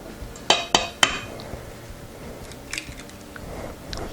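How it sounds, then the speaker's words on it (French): A utensil clinks sharply against a bowl three times in quick succession while sugar and eggs are stirred into cocoa brownie batter, then a few fainter scrapes and taps follow. "on ajoute on incorpore le sucre et les œufs"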